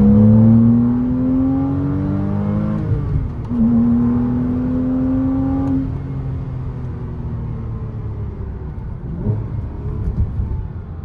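A 2008 Porsche Cayman S engine pulls hard at open throttle during spirited driving, its loud rising harmonic drone sweeping up through the gears with brief breaks at shifts, steady and close with no talking.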